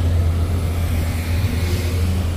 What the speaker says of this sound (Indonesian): Ada bus oren juga yang melewati kejadian ya.